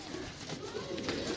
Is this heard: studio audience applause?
no